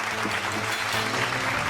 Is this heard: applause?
yes